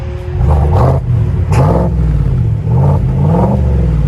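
GMC Sierra AT4 pickup with a 6.2L V8 and muffler-delete exhaust revving loudly and close, with several throttle blips that surge and fall back over a deep exhaust rumble.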